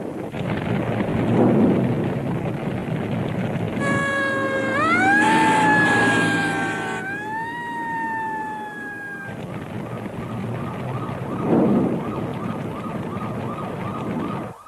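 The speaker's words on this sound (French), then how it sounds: "On a appelé une ambulance. Elle arrive." An ambulance siren wails in rising and falling sweeps that stand out loudly over background street noise for several seconds, then cut off, leaving the ambient rumble.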